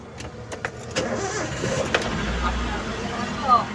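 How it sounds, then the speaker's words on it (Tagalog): A Toyota Avanza that had a crank-but-no-start problem fires up on one turn of the key: a short click and crank catch into a low, steady idle, with a voice speaking over it. "One click start"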